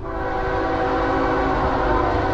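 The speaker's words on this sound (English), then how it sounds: "Give me a nice horn show." A CSX freight train, symbol M404, on Conrail Shared Assets trackage in New Jersey sounds a loud, sustained horn chord close by, steady throughout with rail rumble underneath.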